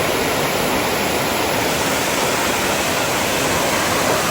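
Cavern Cascade waterfall in Watkins Glen State Park pours in a steady, loud broadband roar that fills the whole stretch without a break, close by and with no voices over it.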